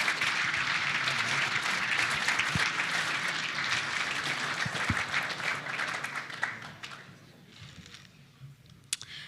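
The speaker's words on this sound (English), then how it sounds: "A big round of applause for both of them." A crowd at the NAB League football best-and-fairest awards night gives a big round of applause, loud and dense at first, then thinning out to a few scattered claps.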